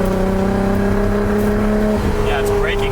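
A Nissan Skyline GT-R engine breaking up under power at a track day: a steady, loud, close droning engine note that shifts and stumbles around the two-second mark before carrying on.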